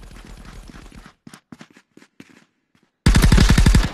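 Rapid bursts of gunfire from the multiplayer shooter Contractors VR, loud and close, with a stretch of sparse separate shots before a dense, heavy volley erupts at the end.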